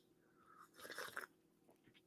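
A brief burst of close, soft chewing and crunching, a handful of quick bites within about half a second, with near silence before and after and a sharp click at the very end.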